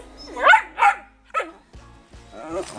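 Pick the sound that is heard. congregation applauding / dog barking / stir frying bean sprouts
dog barking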